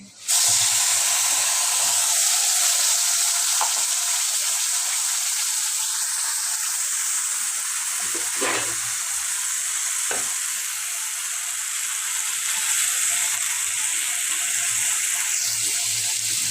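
Loud, steady sizzling of ginger, onion and garlic paste frying in hot oil, with occasional stirring scrapes; no voices.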